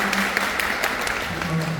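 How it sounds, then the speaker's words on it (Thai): An audience claps for a competition contestant, a dense, steady burst of applause lasting under two seconds. "ขอเสียงปรบมือให้กับน้องด้วยนะครั"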